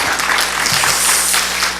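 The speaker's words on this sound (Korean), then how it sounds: "뜨거운 박수로 우리 다시 한번 감사의 말씀을 드리겠습니다" A church congregation at a Korean revival meeting in Kansas gives a guest pastor a warm round of applause, close and dense clapping that holds steady before tapering at the end.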